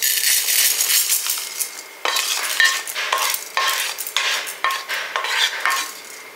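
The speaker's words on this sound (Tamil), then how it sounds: "இப்போ நம்ம இதையும் தட்டில் கொட்டி ஆற வச்சுக்கலாம்." Roasted urad dal is tipped from a pan onto a plate with continuous dry rattling and repeated scraping strokes of a spatula against metal, close and fairly loud.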